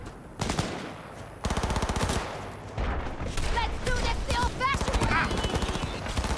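Automatic gunfire in Cyberpunk 2077 rattles in loud, sustained bursts, close and continuous, with a character voice shouting over the shooting.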